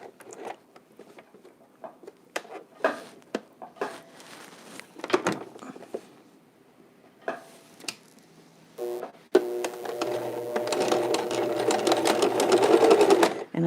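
A sewing machine stitches fabric face masks in short separate bursts with gaps between them, then hums steadily through one long continuous run near the end, close and fairly loud.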